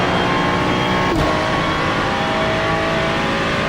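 BMW and Porsche race cars at the Nürburgring 24-hour race in iRacing roar in a steady, dense engine drone that stays loud and constant throughout, with a brief whoosh partway through.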